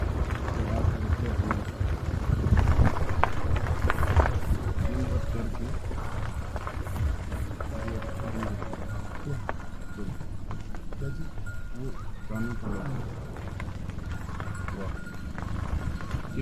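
A herd of goats walks past on a village road, a continuous clatter of many small hooves with wind noise over the microphone and voices in the background.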